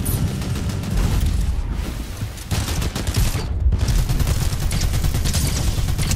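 Gunfire in the video game Fortnite, dense continuous bursts of shots and booms, loud and busy throughout with brief lulls, no talk.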